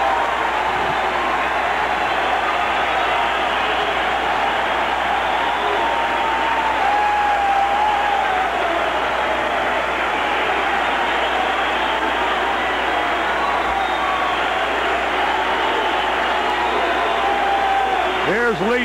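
A baseball crowd at Wrigley Field during a 1984 Cardinals at Cubs game roars and applauds in a loud, sustained wash of cheering, with a broadcaster's voice audible over it.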